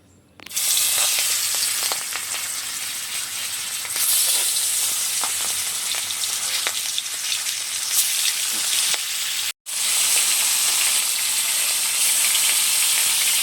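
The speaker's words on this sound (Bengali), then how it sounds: "তেলটাকে একটু নেড়ে চেড়ে নিচ্ছি। মাছ দিয়ে দেব।" Tengra fish fry in hot oil with a loud, dense, continuous sizzle and crackle that cuts out for a split second near the end before resuming.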